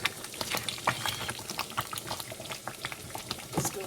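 Nigerian party stew bubbling in a pot, dense close popping and blipping of thick boiling sauce that runs steadily throughout, no speech.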